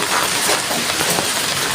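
Rain falling outdoors as a steady, dense hiss of drops with scattered patters on surfaces, continuous and fairly loud with no voices.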